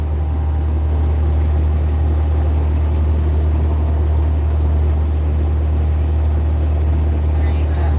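A boat engine held at raised revs, around 1,500 RPM, while cruising between islands in Fiji: a steady, loud low drone with a constant rumble and broadband hull and water noise throughout, no breaks.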